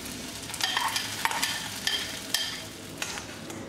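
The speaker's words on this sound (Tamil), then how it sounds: "இப்போ அடித்து வச்சுருக்க முட்டையை ஊற்ற போகிறேன்" Beaten egg poured into a hot pan of fried onions and coriander leaves sizzles loudly and steadily, with a few sharp spatula scrapes and taps punctuating the close, continuous frying.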